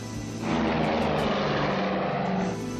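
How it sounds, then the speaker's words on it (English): Airliner on its takeoff run from Los Angeles at takeoff thrust, a loud, steady engine roar that swells sharply after a moment and holds, heard from close by. "At 9:04 in the morning, Flight 718 lifts off from Los Angeles."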